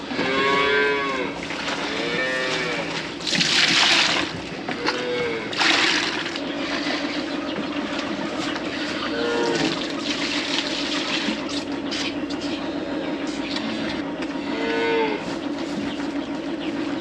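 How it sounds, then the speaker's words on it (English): Calves on a farm moo repeatedly while waiting for their milk feeding, with several loud, drawn-out calls close by, some overlapping, over a steady barn background with a little splashing water. "These calves in here are ready for their milk though, so we're gonna get them fed."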